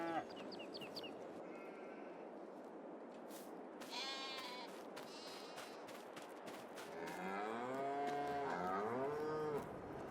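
Cattle mooing on a farm in Farming Simulator 22, several drawn-out lowing calls and a few higher bleats over steady ambient farm noise, near and moderately loud.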